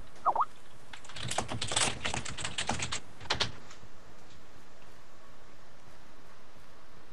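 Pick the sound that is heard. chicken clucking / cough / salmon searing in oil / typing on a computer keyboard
typing on a computer keyboard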